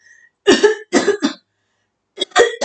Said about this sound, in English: So I'm coughing because I'm dry throated